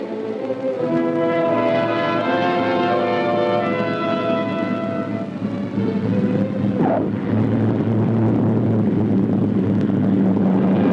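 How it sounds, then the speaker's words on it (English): Air Force transport aircraft engines drone loudly and steadily throughout, a rich propeller-plane roar that shifts slightly in pitch partway through. "Air Force transport form an air link to the island."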